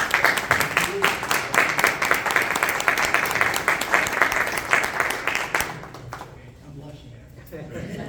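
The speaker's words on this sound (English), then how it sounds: "please give a round of" Loud, dense applause from an audience at a county school board public hearing, honoring a robotics team, sustained for several seconds before dying away into quiet room noise.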